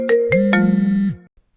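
A phone rings with a few bright electronic tones over a sustained tone, loud and close, alone, then cuts off into silence.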